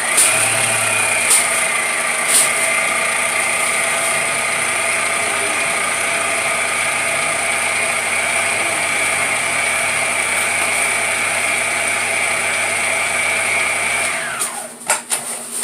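Electric mixer beating pound cake batter made with Jello pudding, a loud steady motor whine and whir running continuously up close, then winding down and stopping near the end.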